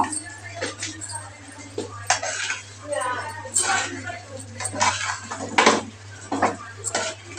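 A spoon scrapes and clinks in a pot while mutton leg roast is stirred, irregular metallic knocks and scrapes close by under a person speaking.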